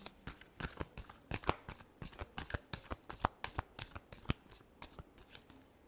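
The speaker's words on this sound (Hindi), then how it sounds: "Last shuffle." Tarot cards shuffled by hand in a quick, irregular series of crisp riffling slaps and flicks, close and fairly quiet with no talking.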